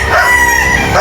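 A fighting cock crows loud and close, a sustained harmonic call filling the whole moment, at a gamecock breeders' yard in Badian, South Cebu.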